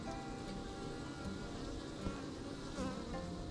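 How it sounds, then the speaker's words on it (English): Bees in a homestead hive give a dense, steady buzzing hum, close and continuous throughout, with no talking. "I gotta check out the bees. They were really buzzing earlier. I can hear them inside."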